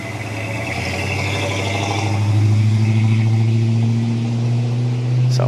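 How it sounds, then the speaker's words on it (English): A 1984 GMC truck idles and revs with a Flowmaster exhaust, giving a steady low droning rumble that swells slightly midway, close and continuous with no speech. "Sounds pretty good with that Flowmaster in there, don't it?"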